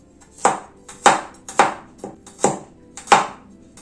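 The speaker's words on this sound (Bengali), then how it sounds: "চপ করে নিচ্ছি।" Garlic cloves, green chillies and a tomato are chopped by knife on a board: six firm, evenly spaced strikes, close and clear, with no talking.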